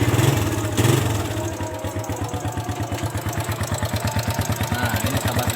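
A Suzuki Satria FU motorcycle, not bored up, settles into idle just after starting: a loud, close, evenly pulsing engine rumble with a brief revving surge at the start.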